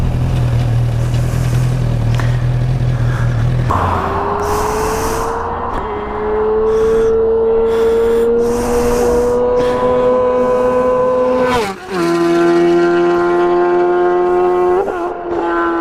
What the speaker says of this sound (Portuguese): para ouvirem o som da moto